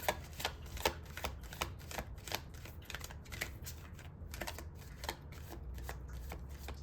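A deck of tarot cards is shuffled steadily and close by, the rapid riffling flutters and slaps repeating throughout with no voice over them.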